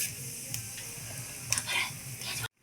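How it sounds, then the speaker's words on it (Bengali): Dried red chillies and black cumin seeds sizzle in hot oil in a kadai, a steady crackling fry with a brief sharp spatter near the middle before it cuts off abruptly. "কড়াই দিয়ে দিলাম শুকনো লঙ্কা আর কালো জিরে ফোড়ন,"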